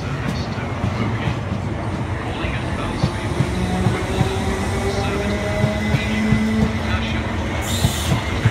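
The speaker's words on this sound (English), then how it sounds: "The train now approaching Clapham Junction is the 1029 Southwest train service to Hoboken." A train rumbles steadily into Clapham Junction station, its wheels squealing in drawn-out metallic tones over a constant loud roar.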